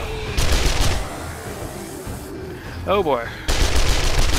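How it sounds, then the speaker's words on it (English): SMG gunfire in the video game 7 Days to Die during a zombie horde night, with loud rapid bursts that stop briefly before resuming, and someone talking in the pause. "This is my first time literally using SMG"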